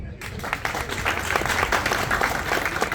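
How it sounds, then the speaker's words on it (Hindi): Audience at a Karachi stand-up comedy show breaks into steady, fairly loud applause, dense clapping sustained throughout with no break. "इसके लिए तालियां तो मार दो यार"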